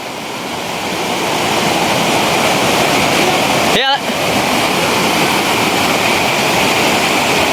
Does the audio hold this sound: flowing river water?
yes